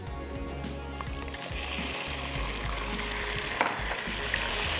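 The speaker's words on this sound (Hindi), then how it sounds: "और चिकन को अच्छे से भून लेना है।" Chicken fries with garlic in a hot pan while being stirred, a continuous close sizzle overlaid with scraping stir strokes and low rhythmic rumbles from the pan, no voices.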